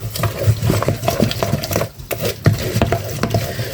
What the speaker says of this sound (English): Just mix it in that flour